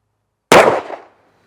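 A single loud gunshot from a 10mm pistol firing a Buffalo Bore Heavy Outdoorsman 220 grain round, one sharp blast with a short decaying tail, close and alone.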